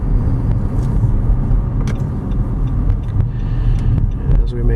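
Inside a silver 2015 Nissan Rogue AWD SUV on a test drive, a steady low engine and road rumble fills the cabin, loud and continuous.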